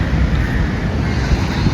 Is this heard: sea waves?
yes